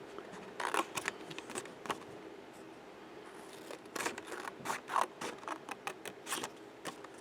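Scissors snip through paper while shapes are cut for a small folded paper mini-book, giving quiet clusters of short crisp cuts with pauses between, close and fairly faint, with no talking.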